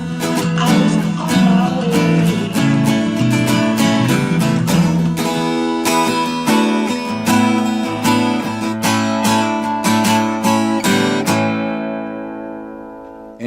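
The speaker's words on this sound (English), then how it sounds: "Our second variation sounds like this." Guitar strumming the second pattern of a song, a brisk steady rhythm of down and up strokes on ringing chords, played alone and close, ending on a chord that fades out.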